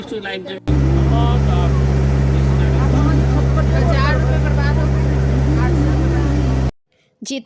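A motorboat's engine drones loud and steady, close by, during a boat ride in Tripura, with voices chattering over it before the engine cuts off near the end.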